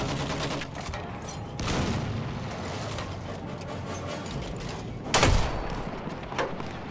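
Mortar shells fire in Battlefield 1 amid a battlefield din, with a few sharp, loud reports near the start, middle and around five seconds, over continuous rumbling combat noise.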